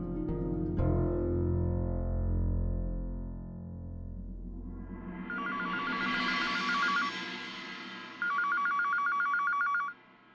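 A telephone rings twice in a steady electronic trill, heard after a stretch of dialing and line noise, each ring loud and close.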